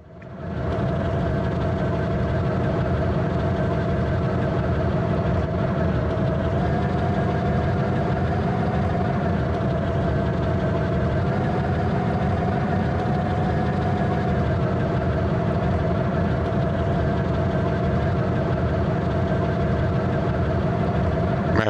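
A steam locomotive's coal-fired engine in a train-building video game runs in a continuous, droning, loud rumble with steady tones held for the whole stretch.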